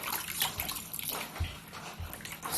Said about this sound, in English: squeeze out all the water just with one pull.